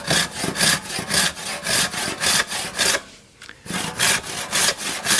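Hand saw cutting through green wood by hand, a loud, steady rhythm of strokes back and forth, with a short pause near the middle before the sawing picks up again.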